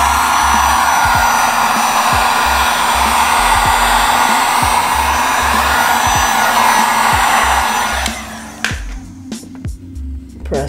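A heat gun blows a loud, steady broadband roar while warming vinyl wrap on a motorcycle, running continuously for about eight seconds before cutting off, leaving faint clicks and handling noises.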